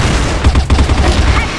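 Rapid gunfire in the online shooter CrossFire, a loud dense burst of shots layered with game noise throughout the short stretch.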